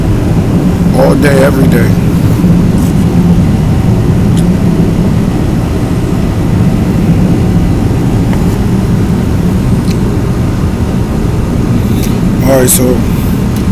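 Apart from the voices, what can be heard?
loud airplane flying overhead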